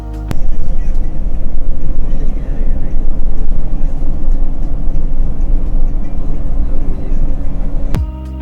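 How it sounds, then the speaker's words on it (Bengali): Cabin noise inside a Scania K-410 multi-axle bus on the highway from Dhaka to Chittagong at speed: a loud, steady low rumble and drone of engine and road that holds for several seconds and then stops abruptly. "আবারও সেই বিরক্তিকর কেবিন নয়েজ পাচ্ছি"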